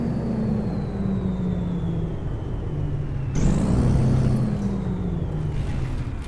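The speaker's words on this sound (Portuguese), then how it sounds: "Ó, o barulho de fecho de mola, galerinha." In Euro Truck Simulator 2 with a realistic sound pack, a low idling truck engine hums steadily, then a sudden sharp hiss of air bursts out midway as the spring brake engages, followed by continued rumbling.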